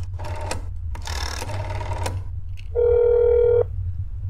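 A phone in the video game That's Not My Neighbor gives off several bursts of mechanical clattering, like a rotary dial turning, followed by one short, loud electronic ring tone.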